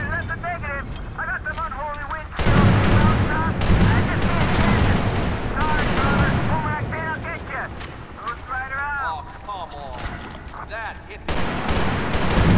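Gunfire in the shooter Battlefield Bad Company 2 campaign: loud bursts of rapid shots and heavy blasts rattle over several seconds, mixed with voices and in-game chatter.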